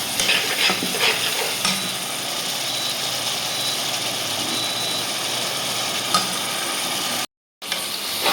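Ginger, garlic, cumin paste and other ground spices fry in a pan, giving a steady close sizzle with occasional stirring scrapes and a brief dropout near the end, no voices.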